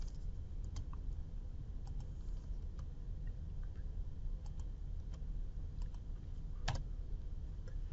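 Computer keyboard typing in a quiet room, a scattering of soft, irregular key clicks at low level over steady background hiss, with one slightly louder tap near the end.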